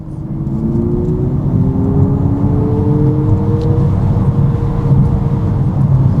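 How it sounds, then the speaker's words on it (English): An Abarth 600E electric car plays its artificial engine sound on a B-road, a steady loud droning hum with rising and falling tones, with no talk over it. "I can put the sound generator back on"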